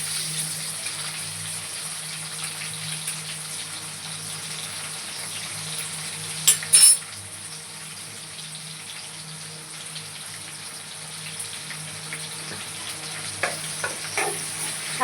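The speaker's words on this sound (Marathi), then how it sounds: "मिरची टाकूया. छानसं भाजून घेऊया मिरचीला पण." Green chilies and curry leaves fry in a pan with a steady, crackling sizzle like light rain. A couple of sharp clinks and spatters cut through partway, with no talking.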